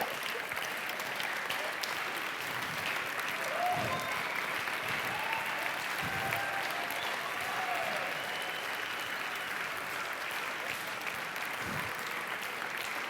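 A crowd at a gathering applauds people who serve faithfully, a long, even stretch of moderate clapping heard from a distance, with no voices over it.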